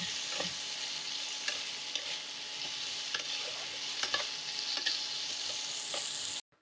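Chopped onion and green chili frying with cinnamon pieces in a pan for a Bengali rui fish jhal, a steady close sizzle with stirring scrapes and light clicks throughout, no talking, ending abruptly.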